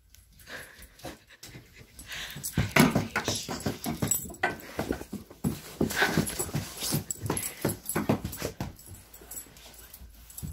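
A puppy whimpers and pants excitedly close by, a rapid run of breathy pants and high whines repeating for several seconds.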